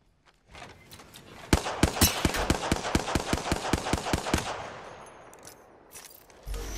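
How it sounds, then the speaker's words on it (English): Rapid automatic gunfire in the video game Apex Legends, a steady burst of about a dozen sharp, evenly spaced shots fired close and loud, then fading into a rumbling tail. "Taking fire, brothers."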